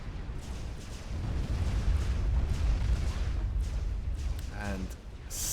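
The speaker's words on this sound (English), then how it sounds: "Still some of those missiles are getting through." Missile barrage explosions in a video game, a steady wash of low rumbling booms and blasts that swells and holds throughout, with a faint rising tonal sweep near the end.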